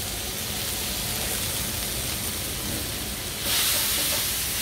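Foie gras sears directly on a very hot ungreased plate, giving a steady, close hiss and sizzle throughout that swells louder for the last second.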